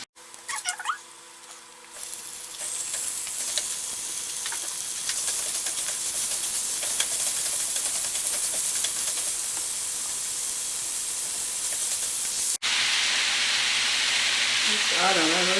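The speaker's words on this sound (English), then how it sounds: "Just let it brown the garlic." Garlic browning in a hot pan for stuffed baby portobello mushrooms, a steady, loud sizzle and hiss that runs almost continuously, with a brief break near the end.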